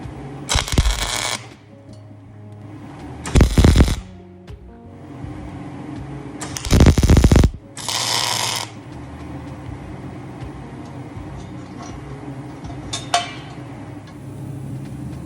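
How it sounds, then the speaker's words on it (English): A bracket is welded onto a front bumper for fog light mounting: four loud, crackling bursts of a second or less each, separated by quieter shop background, heard close with no talking. "I'm going to weld that bracket right there"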